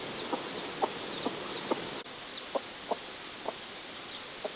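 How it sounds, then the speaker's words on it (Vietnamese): Chickens and newly hatched chicks on a farm, a steady chorus of high chick peeps with short, evenly spaced clucks at moderate distance, no talk. "Gà con nó nở rồi, bố chuyển ra đây con ạ."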